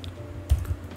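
Quiet typing on a computer keyboard, a couple of soft key taps close by over low room hum, brief and alone.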